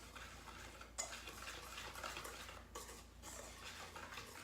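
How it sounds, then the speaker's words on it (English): A small whisk stirs a kosher salt and pepper mixture in a bowl, producing a continuous soft scraping and clinking of metal against the bowl, fairly close and even-paced. "I'm going to get my little whisk, mix it around"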